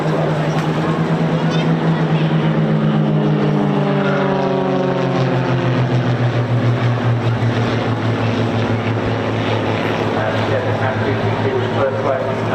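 An Extra aerobatic propeller plane flying at the Bournemouth Air Festival produces a loud droning engine and propeller note that sweeps downward in pitch as it passes, with a commentator talking over it.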